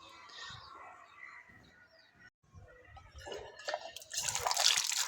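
Fresh turnips, green chillies and spinach being washed in water in a village kitchen, with soft dripping and splashing that grows louder and busier toward the end, birds faintly audible in the background.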